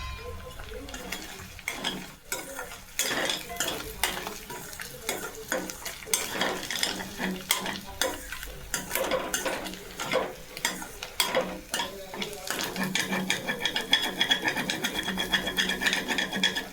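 Scrambled egg with salt is stirred in a pan over a low flame: continuous scraping and tapping of a utensil against the pan over a soft sizzle, close and steady throughout.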